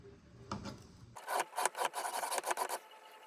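A knife blade grinds across a sharpening stone in a quick series of short, rasping strokes, close and fairly quiet, after a brief softer lead-in.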